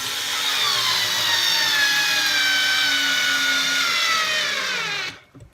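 A TopShak 4V cordless screwdriver driving a roughly 1 1/8-inch screw into wood: a steady close motor whine with a slowly descending pitch for about five seconds, then it cuts off abruptly with a faint clatter.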